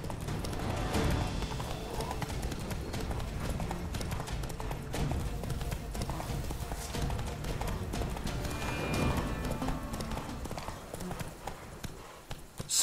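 Horse hooves clip-clop steadily across open country in The Witcher 3: Wild Hunt, a continuous rhythmic trot over game ambience, with faint talk in places.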